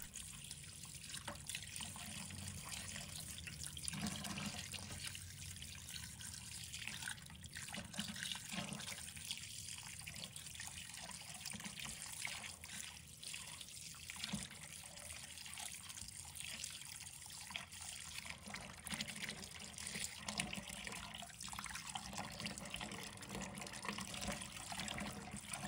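Pig heart being rinsed under a running kitchen tap to clear out blood clots, a steady soft gush and trickle of water with faint splashes continuing throughout, quiet and close.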